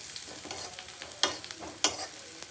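Masala spices and Maggi tastemaker sizzle in hot oil in a pan, with a soft frying hiss broken by several crisp spatula scrapes and clacks, close and with no voices.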